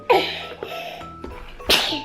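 A girl sneezes once, sharp and close, near the end, while plastic surprise eggs with toys and sweets are being opened nearby.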